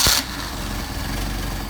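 An engine with carburetors, hot-started, opens with a sharp burst of starter noise and then settles into a steady, close, even idle rumble.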